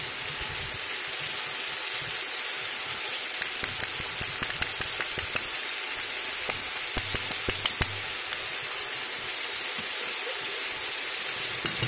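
Meat, potatoes, pickles and sour cream sizzle in a kazan over a campfire, a steady close hiss broken by scattered crackles and clicks of stirring.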